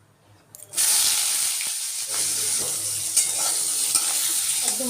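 Food frying in a pan at home, a loud steady sizzle starting after a brief quiet opening, with occasional stirring clinks and crackles throughout.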